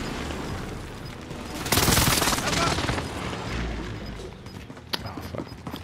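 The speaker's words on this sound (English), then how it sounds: "Allies precision airstrike incoming." Precision airstrike explosions in a first-person shooter video game. They come as a loud, sustained burst of booming blasts and rattling fire that swells and then tapers off, with a sharp crack near the end.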